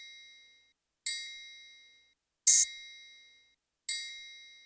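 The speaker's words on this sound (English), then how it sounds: "Finally was this tubular bell that just follows the root notes." In a music beat, a triangle and a tubular bell strike three bright metallic hits about 1.4 seconds apart, each ringing out and fading before the next, with no other sound between.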